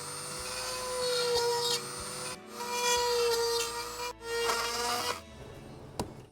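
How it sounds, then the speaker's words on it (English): Rotary tool with a drill bit grinding around the outside of a plastic lit logo fitting for a Toyota GR86 or Subaru: a close, high-pitched whining grind in three long bursts with brief pauses, ending in a sharp tap. "go around the outside here with the drill bit just to kind of get the main point gone"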